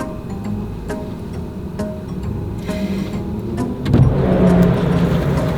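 A car driving along a road, heard from inside as a steady engine and tyre rumble with occasional ticks and a louder surge of road noise partway through; no talk.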